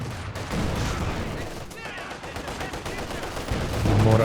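Gunfire aimed at a mortar team in the World War II strategy game Company of Heroes 2, dense rattling bursts of rifle and machine-gun fire continuing throughout, with a voice speaking over it.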